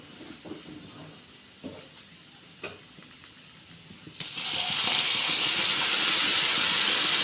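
Cooking oil poured into a pan for a dried fish curry. After a few quiet handling knocks, it breaks into a loud, steady, close sizzle that carries on to the end.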